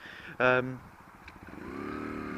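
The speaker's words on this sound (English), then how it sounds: "So then you push the button, the bike will start up on the button." A Sinnis Apache 125cc fuel-injected supermoto motorcycle starts on the button with a short starter burst, then settles into a low steady idle. It is close and moderately loud, and a voice talks over the start.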